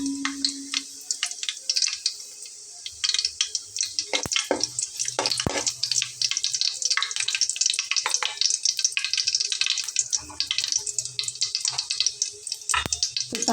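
Cumin seeds and a torn bay leaf sizzle and crackle steadily in hot oil for a Bengali vegetable curry with dried fish, a busy close-up frying hiss with sharp spattering pops throughout.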